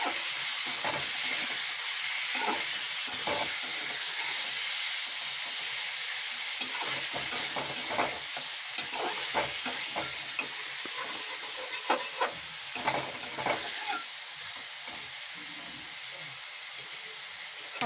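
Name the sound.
chicken pieces frying in oil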